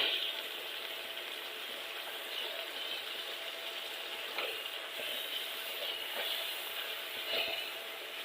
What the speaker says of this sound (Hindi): तो इससे हम अच्छे से थोड़ा सा भून लेंगे, और अच्छे से इसको मिक्स करेंगे